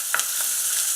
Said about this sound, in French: On va cuire l'oignon jusqu'à ce que ça commence à tourner brun.